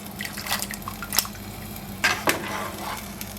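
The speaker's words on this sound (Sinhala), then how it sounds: "දැන් මම මේක මගේ මේ අයිස් වතුර එකේ මේ විදිහට දානවා." Boiled green beans are dropped into a bowl of ice water, giving a few scattered splashes and drips with a couple of sharper plops, close and fairly quiet.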